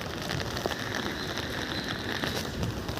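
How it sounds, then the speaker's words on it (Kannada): Steady, faint patter of rain falling on surfaces, a soft continuous hiss with scattered drip-like ticks and no voices. "ಮಳೆ ಬರ್ತಾಯಿದೆ ಈಗ"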